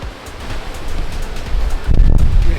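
Strong wind on the W Trek in Patagonia, Chile, buffets the microphone in loud, rough gusts, swelling heavier toward the end with deep rumbling blasts.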